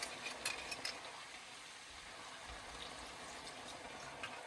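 Red wine poured into a stew in a home kitchen, a soft steady liquid stream running throughout at low level, with a few faint clinks near the start.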